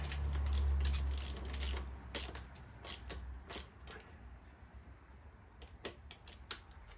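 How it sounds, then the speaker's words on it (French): Socket ratchet loosening 10 mm nuts, a run of quick clicking pawl ratchets and small metallic creaks, close and fairly quiet, with no speech. "Donc on va déjà desserrer les écrous."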